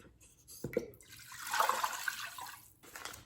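Water pours into a crock pot holding cream of chicken, a steady splashing stream lasting a couple of seconds after a brief clunk, close and fairly quiet.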